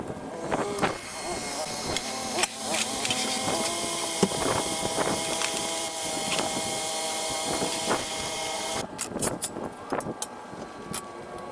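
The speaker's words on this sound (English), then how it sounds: "Now I'm gonna take it for a test drive" A Gen3 Mitsubishi Montero on a test drive after a transmission fluid and filter change gives a steady, fairly loud road and engine rumble with wind hiss, and a few sharp clicks and knocks near the end.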